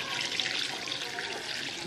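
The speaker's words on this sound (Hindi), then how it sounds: "अब हम इसमें डालेंगे 2 लीटर पानी" About two liters of water pour into a pot of mutton paya: a close, continuous splashing rush that runs throughout without pause, with no speech.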